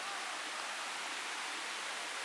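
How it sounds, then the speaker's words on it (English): A steep waterfall gives off a steady, broad rushing hiss of falling water, loud and continuous with no pauses. "it's a freaking waterfall and it's steep"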